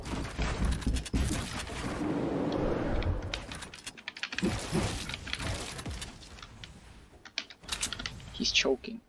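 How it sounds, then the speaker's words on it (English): Computer keyboard keys clack in rapid, uneven bursts during a game, close and fairly loud, with scattered clicks and mechanical rattles. "I apologize for my keyboard sound in advance."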